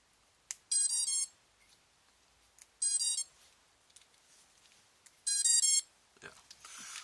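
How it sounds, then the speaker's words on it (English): Four drone ESCs chirp their startup tones after a battery is plugged in. Three short, bright bursts of beeps fall about two seconds apart, each stepping through rising tones, with quiet handling noise between them. "Yeah, I think we have all 4 ESCs saying hello."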